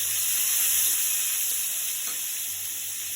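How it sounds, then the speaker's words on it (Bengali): Small pieces of snakehead fish fry in hot oil in a wok, giving a steady, loud, crackling sizzle that continues throughout without any talk. "কড়াইতে তেল দিয়েছি। এখন আমি মাছ দিয়ে দিচ্ছি ভাজার জন্য।"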